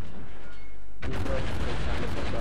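Naval gunfire in World of Warships, a heavy booming salvo erupting halfway through, followed by a loud rumbling roar of explosions that carries on to the end.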